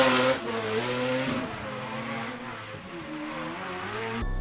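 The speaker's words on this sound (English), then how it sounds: "what I just showed you was Fatboy Drift's former turbo 4-rotor" A turbocharged four-rotor rotary engine in a Mazda RX-7 runs close by with a loud, buzzing drone whose pitch sags and rises slightly before cutting off abruptly.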